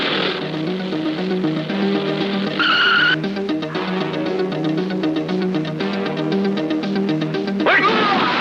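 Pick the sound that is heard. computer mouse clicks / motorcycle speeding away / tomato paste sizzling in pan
motorcycle speeding away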